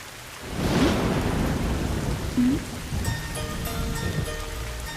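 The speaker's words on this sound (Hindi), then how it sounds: "बारिश हो रही है" A movie scene with heavy rain hissing steadily and a rolling rumble of thunder that swells early on, with a faint musical tone coming in toward the end and brief vocal sounds under the downpour.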